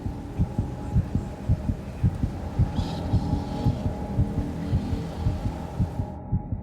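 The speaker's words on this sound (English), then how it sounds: "causing my body to make the sound of my heart beating" A heartbeat thumps in a steady, fairly quick rhythm, low and throbbing, with a faint hum beneath and no talking.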